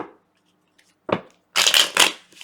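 A deck of cards is riffled and shuffled in a few quick, crisp bursts, close and moderately loud, with a short pause between them.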